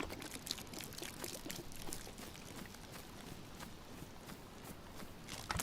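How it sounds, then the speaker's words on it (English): Water pouring out of a bottle in DayZ, a steady trickling pour that runs continuously, fairly quiet and close, with faint shuffling footsteps around it. "Empty the bottle."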